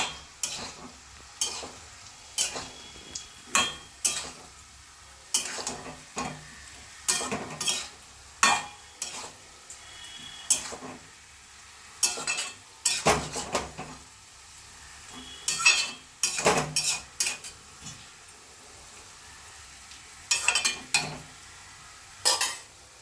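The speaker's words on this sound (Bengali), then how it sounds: "আবারও ভালো করে নাড়িয়ে" Malabar spinach and shrimp being stirred in a wok over heat, a steady run of close, sharp spatula scrapes and clinks against the pan over a low sizzle, repeating irregularly throughout with no talking.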